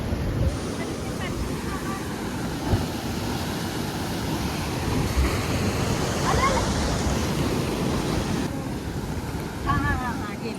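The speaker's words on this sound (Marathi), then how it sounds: "होय कसल्या मोठ्या मोठ्या लाटा आले." Sea waves break and wash on Shiroda beach, a continuous rolling surf under heavy wind buffeting against the microphone, with faint voices in the background.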